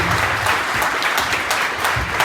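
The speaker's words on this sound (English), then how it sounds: "What a little round of applause for Barbie" A short burst of steady clapping from a small crowd at a ceilidh, warm and continuous for a couple of seconds.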